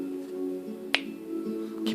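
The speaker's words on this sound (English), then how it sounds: "And then snap your fingers." A single crisp finger snap, close and sharp, sounds over a steady humming background, with a softer click following near the end.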